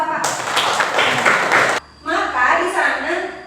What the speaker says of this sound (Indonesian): tepuk tangan buat siapa?